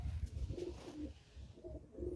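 A pair of pigeons, one a pure white male, coo in soft, low repeated phrases close by, several throaty calls spaced across a short quiet stretch.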